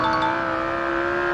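An Audi driven in the BeamNG.drive video game gives a steady, even engine drone with a held tone that stays loud and constant through a very short stretch.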